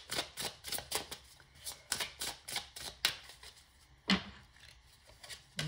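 Tarot cards being shuffled and drawn, soft papery riffles and flicks in an uneven run of quick bursts, close and fairly quiet, with one sharper snap near the end.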